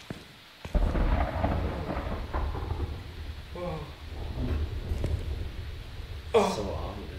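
In the video game Phasmophobia, a deep rolling rumble of thunder sounds over steady rain, followed by a sharper crack near the end, with players talking over it.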